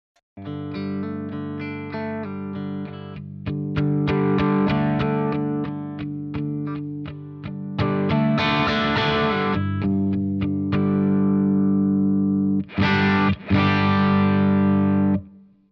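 Electric guitar through a Browne overdrive pedal, with picked notes and strummed chords that sound driven and gritty, played close with varying pick attack and short gaps between phrases, and no voice.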